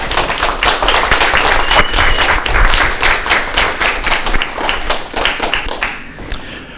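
A live audience claps to welcome speaker Bart Loeser at a communication skills meeting: steady, loud applause from many hands that swells, holds, then thins out and fades near the end.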